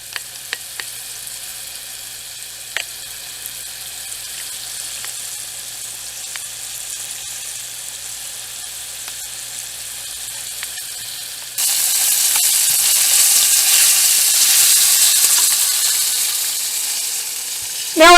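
Pork pieces browning in a pan for soup, a low steady sizzle with a few faint clicks that suddenly swells into a much louder, brighter frying hiss near the end, close and without speech.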